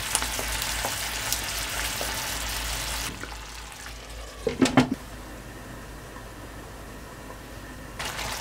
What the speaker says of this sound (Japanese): お水を加えてくださいね。